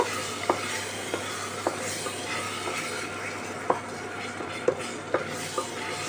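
A spoon stirring ghugni made with meat fat in a pan, irregular scraping knocks against the metal spaced about half a second to a second apart over a faint low sizzle, close and fairly quiet with no talk.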